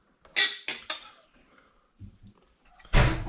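Chopped lobster and ingredients are tipped into a pan: a run of bright metallic clatters and scrapes, a quieter stretch of faint shuffling and thuds, then one loud sizzling clank near the end.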